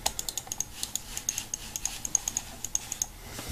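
Rapid, light clicks of Logitech Touch Mouse T620 buttons, roughly twenty crisp close-up taps in a steady, quick rhythm with no voices.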